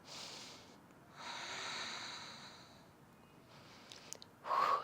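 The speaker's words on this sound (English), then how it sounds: "Let's take 2 more breaths" Slow deep breaths during yoga practice, several long close inhales and exhales separated by quiet pauses, ending with a sharper audible breath.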